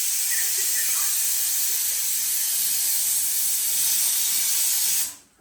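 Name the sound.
pressure cooker whistling steam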